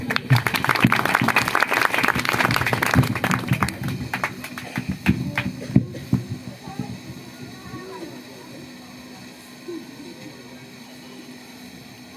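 An audience at a community gathering about children's education claps in a dense round of applause that thins out and fades after several seconds, leaving a quiet hall.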